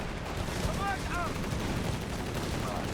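Machine gun fire rattles in a Company of Heroes 3 battle, a dense, continuous wash of gunfire at steady loudness with other combat noise mixed in.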